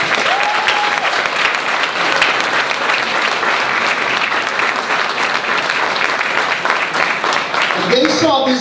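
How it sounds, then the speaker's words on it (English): An audience in a room breaks into steady applause during a councilman's re-election speech, dense clapping at a constant level throughout, with a speaker's voice heard over it near the start and again at the end. "Give them a round of applause."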